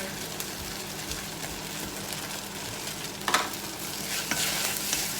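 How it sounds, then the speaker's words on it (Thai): Shallots stir-frying in a hot pan while cooking a salmon belly dish, a steady sizzle with scraping stirs of a utensil and a couple of sharper clanks, close and fairly loud. "ต้นบ่กินหอมดิบก็ต้องคั่วหอมไปเลยจ้ะ"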